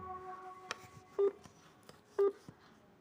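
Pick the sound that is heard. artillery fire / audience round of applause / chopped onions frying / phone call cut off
phone call cut off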